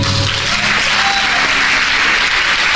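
Church congregation applauding during a Spanish-language sermon, a loud, dense and unbroken burst of handclapping from many people, close and sustained, with a faint tonal hum underneath at the start.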